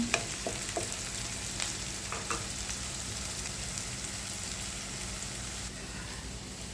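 Shallots fry in oil for a chicken chili curry, giving a steady, fairly quiet crackling sizzle with a few sharper pops near the start and no voices.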